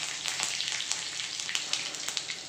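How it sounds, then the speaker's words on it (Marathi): Mustard seeds, cumin and curry leaves sizzle in a little hot oil in a pan, a steady close frying hiss scattered with sharp pops and crackles from spluttering seeds. "तेल गरम झाल्यावरती थोडीशी मी मोहरी ॲड केलेली आहे, जिरं,"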